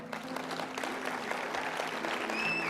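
Steady applause from a crowd, a continuous wash of clapping that holds at an even level throughout, with a faint high whistle near the end.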